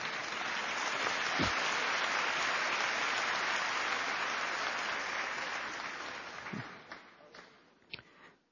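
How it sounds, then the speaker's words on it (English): A church congregation at a sermon claps together in a broad, sustained roar of hands with occasional thumps, gradually thinning and tapering off into a few scattered claps. "Don't be afraid to clap."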